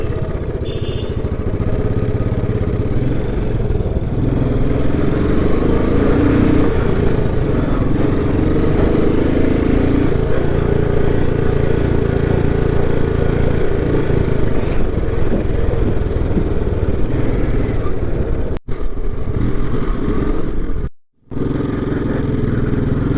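A motorcycle riding on a rough off-road track in Ladakh, a loud, continuous engine drone with rattling and wind rush, close throughout, with a couple of brief dropouts near the end.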